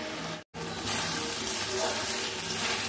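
A splash of water poured into spice paste frying in a pan for a mocha (banana flower) dish, hissing and sizzling loudly and steadily after a brief silence.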